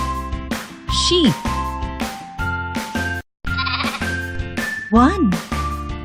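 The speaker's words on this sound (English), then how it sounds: "Sheep." Sheep bleats rise above bright, bouncy children's music, two quavering cries a few seconds apart, with a brief pause in the backing between them.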